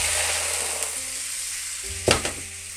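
Shrimp and garlic fry in a pan with a constant, close sizzling hiss, broken near the end by a brief clatter of a utensil stirring against the pan before the sizzle settles again.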